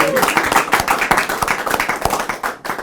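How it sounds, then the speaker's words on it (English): A studio audience claps and cheers for a prize winner, with quick sharp hand claps over a loud crowd and a voice calling out. "we want to give you one big cheer again for being a winner"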